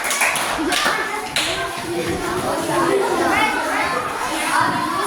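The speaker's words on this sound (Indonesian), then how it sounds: "Tepuk tangan buat kelompok." Fifth-grade pupils in a classroom applaud a group, with brisk scattered clapping mixed with children's chatter and shuffling throughout.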